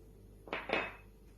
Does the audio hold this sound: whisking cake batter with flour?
yes